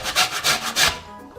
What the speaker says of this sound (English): Get yourself a cheese grater.